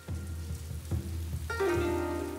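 Rain falls on a village in Anhui province, China, as a steady close hiss of drops, with sustained tonal sounds swelling in about halfway through.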